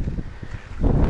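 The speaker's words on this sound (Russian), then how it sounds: "Поднимается ветер." Wind rises along a mountain trail, a soft rushing gust that swells louder toward the end over faint rustling.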